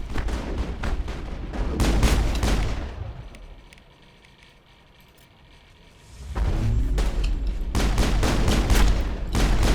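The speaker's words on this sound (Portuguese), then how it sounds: "Olha o tiro de 12, tocou o cara no chão." Shotgun fire in Mass Effect played on Hardcore difficulty: loud, booming repeated blasts in two dense clusters, with a quieter lull of low background rumble between them.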